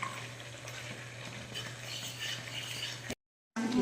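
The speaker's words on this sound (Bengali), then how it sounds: "এবার ভালো করে কষি।" Chicken being stir-fried and worked in a pan for a Bengali-style dish, giving a steady close sizzle with stirring scrapes that drops briefly to silence near the end.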